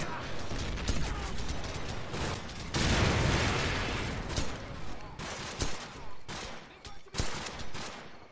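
Gunfire in Call of Duty 4: Modern Warfare, a dense, continuous barrage of rapid shots and bursts with a heavier roaring stretch in the middle, then sharper separate cracks toward the end.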